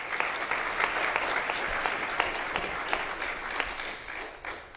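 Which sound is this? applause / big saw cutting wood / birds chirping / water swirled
applause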